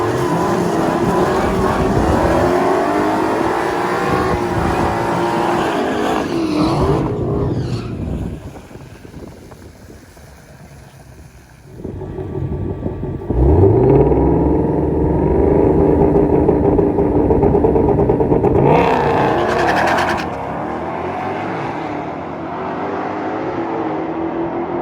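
Loud, close engine roar from a 2020 Ford GT500 and a 2019 Dodge Redeye in a drag race, with revving that drops away briefly near the middle and then surges back with sustained high-power acceleration.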